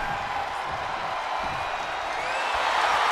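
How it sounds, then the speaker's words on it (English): A wrestling arena crowd in the WWE 2K23 video game roars during an iron man match, a continuous wash of cheering and whooping that swells slightly toward the end, heard without commentary. "The sound of this crowd is deafening, and he's asking for more."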